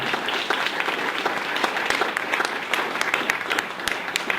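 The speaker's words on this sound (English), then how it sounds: "let's give Heather Swain one last round of applause" An audience at a Big Ten university marketing talk gives speaker Heather Swain a steady round of clapping that carries on evenly for several seconds, dense and close.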